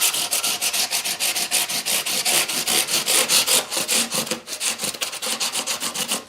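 Steady back-and-forth sandpaper rubbing along the edges of guitar frets during a fret replacement on a Gibson L48, a dense, rhythmic scratchy scrubbing that runs continuously and close without any talk.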